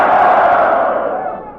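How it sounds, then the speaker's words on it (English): Loud, dense crowd noise at the El Paseo club in Santa Barbara, heard in an old-time radio show: a steady roar of many voices that gradually fades over a couple of seconds. "And what a crowd."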